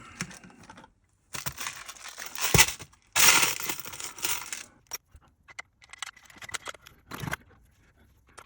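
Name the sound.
handling screws for an RC truck chassis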